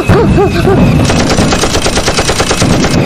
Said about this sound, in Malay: Ni diorang siap main macam roket lagi.